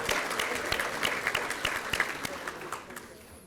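A crowd at a service recognition and retirement dinner claps steadily, the applause loud at first and then thinning and fading out over a few seconds.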